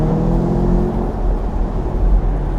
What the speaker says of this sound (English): you can hear that fantastic exhaust